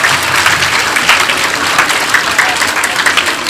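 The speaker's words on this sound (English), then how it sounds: "One more round of applause for Delegate Sanchez" An audience at a community event breaks into steady, loud applause, dense clapping that holds evenly throughout with a faint crowd murmur beneath it.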